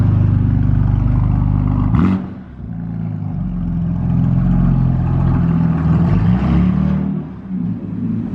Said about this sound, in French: Là, on a une M2 compétition avec les valves qui viennent d'ouvrir en plus.